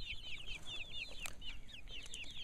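Chickens cluck in a small repeated chorus inside a mobile chicken tractor out in a yard, the calls close and clear over a faint outdoor background.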